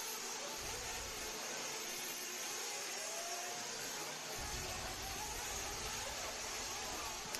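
Intermediate nitro RC buggies race during a qualifying round at a dirt track, making a steady, dense high-pitched engine whine that blurs into a constant roar, with a few lower rumbles as cars pass.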